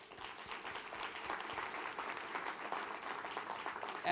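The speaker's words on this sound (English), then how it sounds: "I want to give you another round of applause." Applause from a banquet audience fills the room in a steady, moderately quiet patter of many hands, sustained throughout with no one speaking over it.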